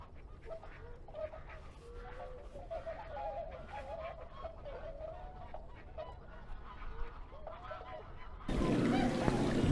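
Geese honking at Slimbridge nature reserve, a dense chorus of repeated calls at middle distance that runs steadily, with a sudden burst of broadband noise near the end.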